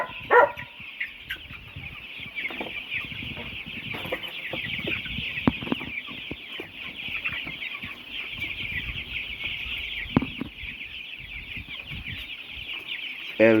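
Dense flock of baby chickens on a chicken farm, a steady chorus of close, overlapping chirps and clucks with a few sharper calls breaking through.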